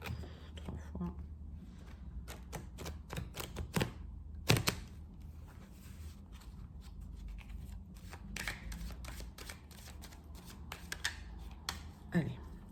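Tarot cards being shuffled in a series of quick riffling, flicking bursts, with a louder snap partway through, set against a steady low background hum.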